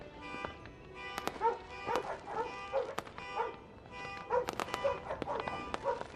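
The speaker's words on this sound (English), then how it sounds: "stop with the dogs barking" Dogs bark and yip repeatedly in an indie horror video game, scattered uneven barks at moderate loudness over a steady tonal backdrop with some speech-like sound mixed in.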